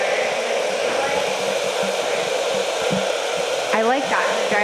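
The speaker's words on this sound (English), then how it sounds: "so it sounds like some people are diffusing." A handheld hair dryer with a diffuser blows over curly hair during a haircutting training session, making a steady, loud whooshing drone throughout, with a brief voice near the end.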